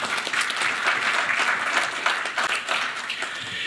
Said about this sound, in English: Please give Mr. Nair a round of applause